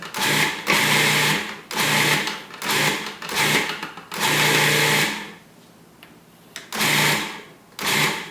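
Food processor pulsing a raw broccoli pie crust as ground flax meal is added, with about seven loud whirring bursts separated by short pauses, close and alone without talk.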